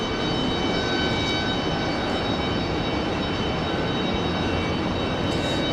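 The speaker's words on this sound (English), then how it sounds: "A little JetBlue pushback action here." A JetBlue airliner being pushed back from the gate at Raleigh-Durham International Airport gives off a steady, loud whine and broadband rumble with constant high tonal hum, unchanging throughout and with no talk.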